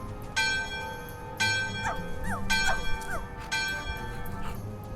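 Dogs bark in the Friendly Neighborhood video game, with several short yips and whimpering barks scattered over a recurring bell-like chime that strikes about once a second, heard without talk.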